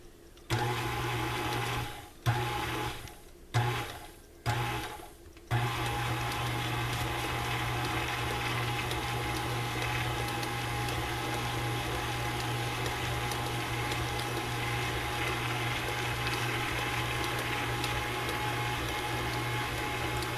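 An electric blender or mixer whirs through box cake batter, starting with three or four short bursts before settling into a steady, loud motor hum that runs continuously with no talking.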